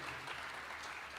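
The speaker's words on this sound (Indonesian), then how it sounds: "Yang setuju boleh berikan tepuk tangan yang meriah buat Tuhan Yesus." A brief stretch of dense, steady applause from a church congregation at a youth revival service, many hands clapping together at an even level.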